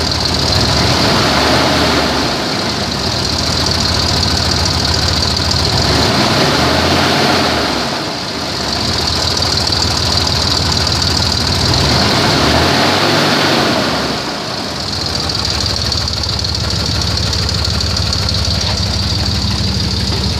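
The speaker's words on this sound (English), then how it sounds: "Let's have a little bit of exhaust leak." 2003 Dodge Ram 1500 pickup with 84,758 miles idling close and loud with a slight exhaust leak, a steady rumble with a few slow, rhythmic dips over about twenty seconds.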